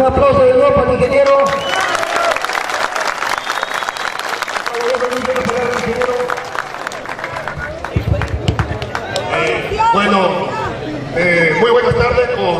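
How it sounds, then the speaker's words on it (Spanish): Audience applauding an engineer at a local public gathering, loud sustained clapping from a crowd filling the space, with voices and murmuring mixed in throughout. "un aplauso de nuevo para el ingeniero"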